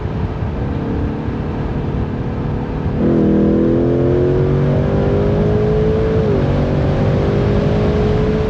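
A 2026 Ford Mustang GT with a 10R80 automatic, driven in sport mode, holds a steady loud engine drone, then revs harder at about three seconds, its pitch climbing through gears with a brief dip before rising again.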